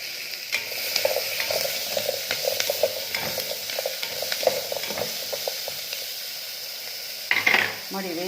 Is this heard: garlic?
yes